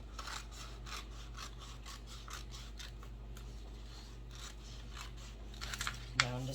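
Transfer tape for a Cricut removable-vinyl sign being cut to size, a run of quiet, rhythmic snipping and rasping strokes over a low steady hum, close up, ending in a slightly louder rustle.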